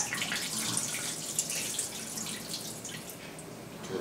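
Soaked, peeled almonds are rinsed under a running kitchen tap, giving a steady close hiss of flowing water with small splashes throughout.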